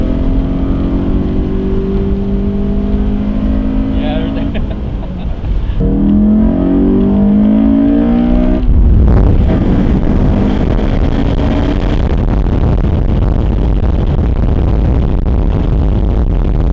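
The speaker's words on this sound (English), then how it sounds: "Damn, that VTEC really kicks in hard in this car." A Toyota GR86 engine revs hard under acceleration, with loud rising engine tones sweeping upward in two pulls, followed by a rushing broadband roar of road and wind noise as the car keeps driving.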